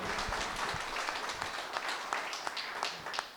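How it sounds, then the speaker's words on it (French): Audience clapping at a political campaign meeting for the European elections in Nîmes, a dense patter of hands filling the hall at moderate distance, steady and unbroken throughout. "On peut applaudir."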